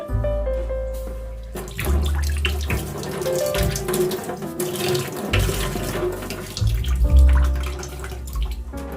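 Tap water runs and splashes into a sink while dishes are rinsed, the flow starting and stopping with clattering in between.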